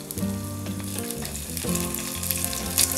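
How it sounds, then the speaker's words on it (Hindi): Finely chopped green chillies sizzling in a pan with ginger and garlic, a steady loud frying hiss with scraping from stirring, close up and with no talk. "अब इसमें हम 2 बारीक कटी हुई हरी मिर्च डाल देते हैं।"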